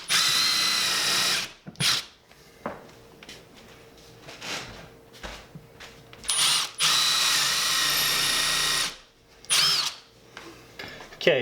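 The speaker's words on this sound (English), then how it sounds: "I'm going to countersink them here so that we can get a good strong hold" A power drill countersinks screw holes into wall studs through drywall, several loud whirring bursts of a few seconds each, separated by quiet pauses and small handling knocks.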